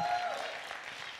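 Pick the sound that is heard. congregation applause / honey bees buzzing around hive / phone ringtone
congregation applause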